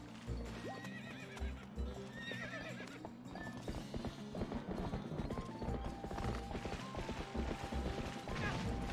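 Hooves clip-clop at a gallop in Zelda: Twilight Princess, a steady drumming rhythm mixed with horse neighs and game music throughout, loud and close.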